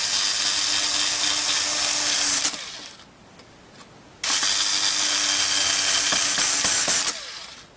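A power screwdriver drives two small screws into a worm robot. There are two sustained whirring runs of about two and three seconds each, with a short pause between them. The sound is close and there is no talk.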